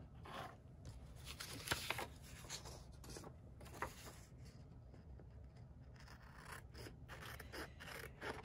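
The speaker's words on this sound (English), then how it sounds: "Maybe I can fussy cut it out." Scissors fussy cut a craft piece in small, uneven snips and soft paper scrapes, very quiet and close, with short pauses between cuts.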